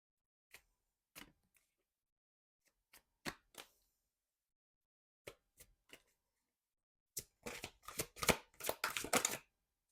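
Oracle cards tapped and shuffled by hand, close and quiet: a handful of isolated sharp taps spaced apart, then a dense burst of riffling flutters near the end.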